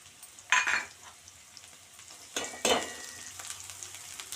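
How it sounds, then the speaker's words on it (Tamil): Garlic and green chilies tossed into hot oil where mustard seeds have already popped, for a flattened-rice snack mix: two sharp sizzling bursts a couple of seconds apart, each settling into a quieter crackle. "கடுகு நல்லா பொறிஞ்சிச்சு பூண்டு போட்டுப்போம் பச்சை மிளகா போட்டுப்போம்"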